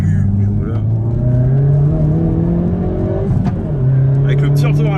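A Hyundai i30N's engine climbs steadily under acceleration, drops briefly at a gear change, then pulls up again, loud and close, with voices talking over the engine.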